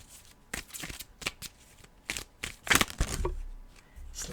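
Tarot cards are shuffled in quick, rustling bursts, with riffling flutters and soft slaps, close and fairly quiet with no talking.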